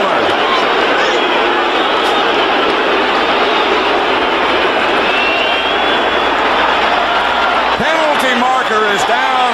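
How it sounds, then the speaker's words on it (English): Stadium crowd at a 1982 NFL game, New York Giants at Detroit Lions, roars steadily as a dense, loud wash of cheering that stays full throughout, with a few sharper shouts near the end. "And listen to the crowd."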